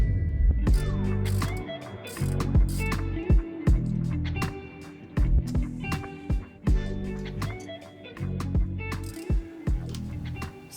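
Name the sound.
undoing rusted steering bolts on a sailboat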